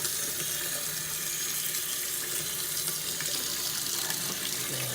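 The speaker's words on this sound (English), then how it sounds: "we're gonna turn this hot water on and see what we get." Hot water gushing steadily from a tap fed by a Girard tankless water heater, a loud continuous hissing splash with no pauses throughout.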